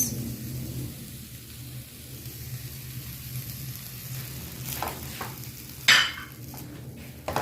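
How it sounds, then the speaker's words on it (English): Samosa filling of onions and lemon juice being stirred in a pan over medium-low heat, a soft continuous scraping and gentle sizzle with a sharper utensil clack near the end. "Mix well and heat on medium low heat because we don't want the onions to overcook"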